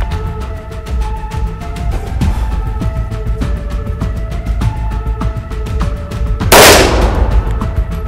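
A single sharp gunshot cracks out during a special-operations shooting drill, fired at a rope target; it follows several seconds of tonal background music and stands alone, loud and close.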